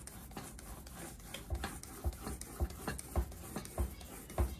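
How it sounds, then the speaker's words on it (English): A roller spreads hardground over an etching plate in steady repeated strokes. Each pass gives a soft rasping rub with a low thump at the end, and the strokes keep a regular rhythm with no talk. "So I evenly roll it across the whole plate."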